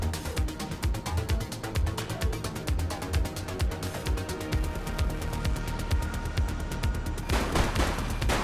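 Rapid, close gunfire in The Precinct video game crackles in dense, repeated bursts throughout, fast volleys layered over each other with a brief heavier blast near the end.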